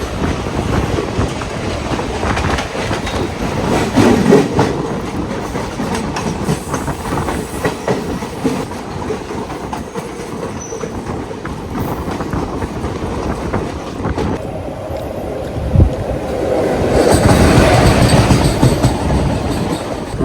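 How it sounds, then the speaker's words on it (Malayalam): Chennai–Alappuzha Express rolling into Irinjalakuda station, a steady rumble of wheels and clattering carriages running throughout, swelling louder and brighter near the end as the coaches pass close by. "ഇരിഞ്ഞാലക്കുട സ്റ്റേഷനിലേക്ക് കയറുന്ന ചെന്നൈ ആലപ്പുഴ എക്സ്പ്രസ് ആണ് അതാണ്ട് വരുന്നത്."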